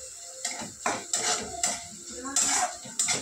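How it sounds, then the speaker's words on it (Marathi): Metal lid set on a cooking pot of shepu bhaji (dill greens) after salting: a series of sharp, light clinks and clatters, several quick knocks close by. "आता याच्या पुढं मीठ टाकू आणि झाकण ठेवू"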